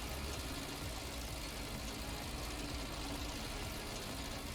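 A tractor engine strains steadily while hauling a five-furrow plough up a steep hill in Farming Simulator 19, a constant loud droning rumble with no pauses.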